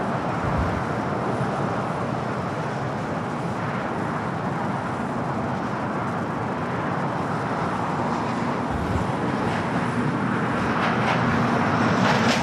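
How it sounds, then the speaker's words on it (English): A Virgin Airbus A350-1000 departing Los Angeles LAX for London Heathrow produces a sustained jet engine roar, loud and continuous, swelling slightly toward the end, with no speech. "Virgin Flight 8, heading back to London Heathrow in that A350-1000"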